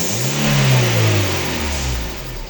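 A car engine with a faulty valve revs once hard, then drops back and settles toward idle. The sound is loud and close, with no voices over it.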